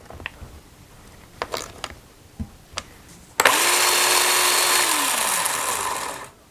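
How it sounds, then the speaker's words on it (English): A Ryobi 8-inch chainsaw starts after a few clicks and handling noises, then runs with a loud, steady whine for about three seconds before winding down. "I always run the saw a little bit and then I check the tension again."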